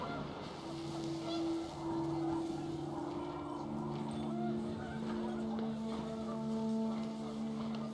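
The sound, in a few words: panicked geese in video game What Remains of Edith Finch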